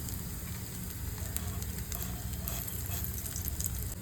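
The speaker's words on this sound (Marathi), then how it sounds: "इल्लेंशें तेल भितर घालून थोडेशे खडे मसाले भाजून घेवया" Whole spices frying in hot oil in a pan while cooking Goan choley: a dense, steady crackling sizzle with faint popping, close and continuous, with no talking.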